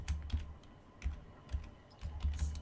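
Someone types on a computer keyboard in quick bursts of soft keystrokes with short pauses between them, heard faint and alone.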